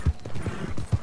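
Horse hooves clip-clop on the ground in Red Dead Online, a few quick, close hoofbeats over about a second.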